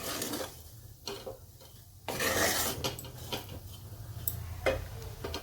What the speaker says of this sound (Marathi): आता कमी गॅसवरच आपल्याला ह्याला थोडंसं कोरडं होईपर्यंत परतून घ्यायचं आहे अजून।